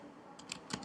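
A few quick keystrokes tap faintly on a computer keyboard, three or four soft clicks in under a second against a quiet background.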